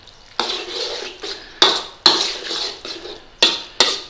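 A spoon stirs garam masala into bhindi masala (okra curry) in a metal pan. It scrapes and clinks against the pan in several sharp, close knocks, with sizzling and scraping between them.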